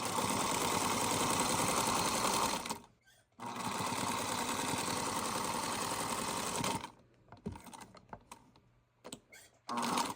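A sewing machine stitching quilt pieces in rapid, even mechanical bursts, stopping briefly twice between runs, with small handling clicks and taps in the quieter gaps.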